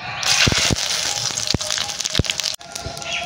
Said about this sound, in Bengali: তেজপাতা, শুকনো লঙ্কা, গোটা জিরে ফোড়নে দিয়ে দেবো।